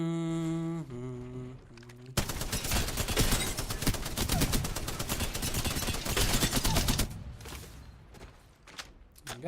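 Spitfire machine gun from Apex Legends firing one long, loud, sustained automatic burst of about five seconds, with quieter game sounds before and after.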